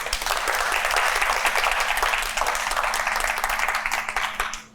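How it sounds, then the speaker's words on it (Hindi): Studio audience applause on a Hindi reality game show, a dense, steady wash of clapping that stays loud for nearly five seconds and tapers slightly at the end, with no talking over it. "तालियां बजाएं।"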